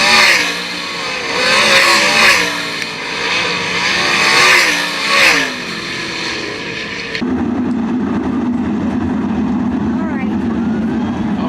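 Loud 410 sprint cars roaring and revving through a heat race at Attica Raceway Park, engine pitch rising and falling as cars pass, then a steadier drone as they pace toward the infield.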